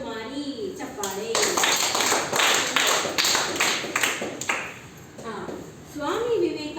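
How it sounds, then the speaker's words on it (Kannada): An audience at a quiz program on Swami Vivekananda breaks into a few seconds of lively clapping. Voices speak just before and after the applause. "ಚಪ್ಪಾಳೆ."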